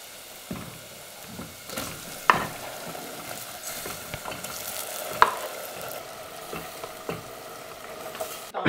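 Calamari tossed and stirred with spices in a hot pan at a Lebanese seafood spot, a steady sizzle under scattered utensil scrapes and clicks, fairly close.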